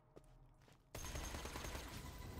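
Gearbox rifle with incendiary rounds in a shooter video game, firing a dense, continuous burst of rapid shots that starts abruptly after a quieter moment and holds a loud, rattling roar to the end.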